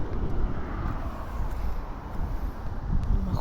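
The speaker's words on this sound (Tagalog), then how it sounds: "Oh, malakas ang hangin." Strong wind buffets the microphone in a constant low roar in a forest in the afternoon, gusting slightly throughout with no voices.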